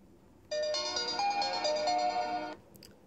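A short melodic sample plays through the dual front-facing speakers of a Sony Xperia Z5 Premium phone, a bright ringtone-like tune lasting about two seconds, clear and fairly loud, with no talking.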